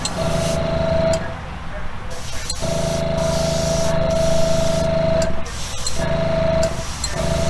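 Spray paint goes on as another coat over a custom Hot Wheels Bone Shaker, with repeated close hissing bursts over a steady background hum.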